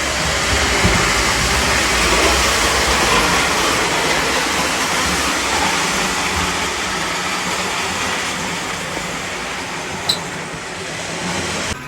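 Model trains running on a home layout, a continuous rolling rumble of wheels on track at close range that fades slightly toward the end, with a brief click near the finish.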